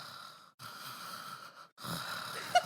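A person imitates snoring with raspy, noisy breaths through the mouth in three drawn-out bursts separated by short silences, close and fairly quiet.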